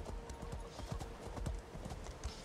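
Horse hooves clip-clop at a steady trotting rhythm in the video game The Elder Scrolls Online, close and clear, the even beats continuing alone without talk.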